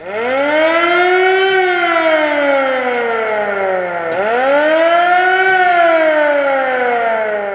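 A loud siren wails steadily, its pitch sweeping up and gliding down, then starting a second rise. No other sounds.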